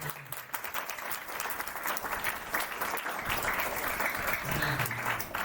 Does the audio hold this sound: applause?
yes